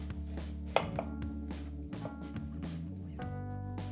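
A kitchen knife cuts a whole watermelon straight down the middle, producing a few crunchy slicing and chopping sounds with a sharp knock early on, over steady background music.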